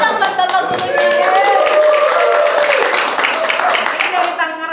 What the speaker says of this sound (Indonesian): Tepuk tangan dong buat bapak gurunya.